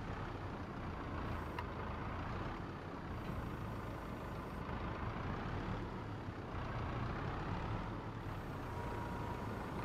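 Claas Torion 1914 wheel loader with a 6,000-liter bucket and wide tires scooping silage off the ground in Farming Simulator 22, a steady diesel engine drone with a few brief high beeps, no talking.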